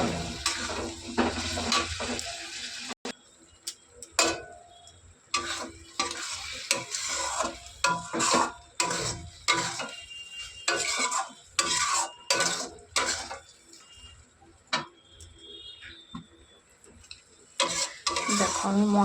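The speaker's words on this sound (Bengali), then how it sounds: "এবার এটাকে ভালো করে কষিয়ে নেব" Spice paste with turmeric and Kashmiri chili powder being stir-fried in a pan, with repeated scraping strokes of a spoon against metal over a soft sizzle, close up and irregular, pausing briefly now and then.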